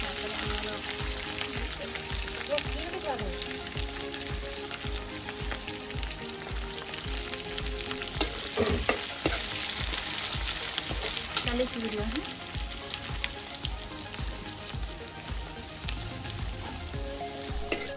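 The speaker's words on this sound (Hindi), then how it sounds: "शिमला लंका को एबे मु भाजी नउची।" Chopped onion and capsicum frying in a pan, a steady close sizzle lasting throughout, with occasional stirring scrapes and clinks of a spoon against the pan.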